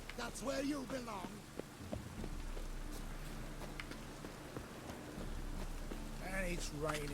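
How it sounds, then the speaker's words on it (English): Soft, constant rainfall in The Witcher 3: Wild Hunt patters in the background while a voice speaks briefly at the start and again near the end. "And it's raining again."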